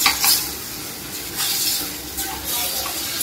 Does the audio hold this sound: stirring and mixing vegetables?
yes